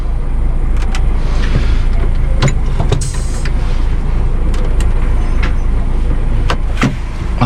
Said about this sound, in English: I'm driving a Daf